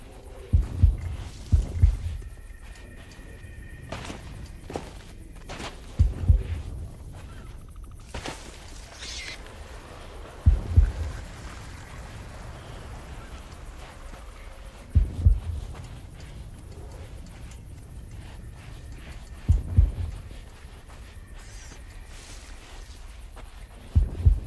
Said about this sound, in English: As the heartbeats get louder, I'm getting closer.